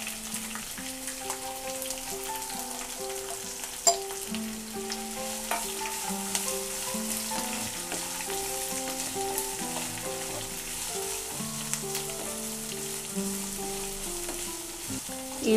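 Chopped onion pieces, added with green chilli, frying in a pan for beetroot curry, giving a steady dense sizzle with crackling throughout and a faint tonal background hum.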